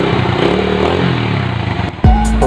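A motorcycle engine that had been lacking power runs loudly and roughly up close in a repair shop, then cuts to a sharper revving burst at the end.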